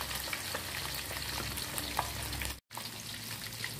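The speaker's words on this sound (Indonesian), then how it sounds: "kalau ayam nih memang aku pakai minyak yang panas ya, teman-teman. Biar kita gorengnya tuh nggak terlalu lama" Steady crackling sizzle of chicken frying in hot oil, continuous and fairly loud, with a brief dropout near the end.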